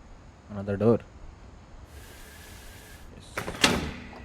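A door opens in What Remains of Edith Finch with a short creak, then a long airy hiss, then a sharper scrape at the end. A voice speaks briefly near the start.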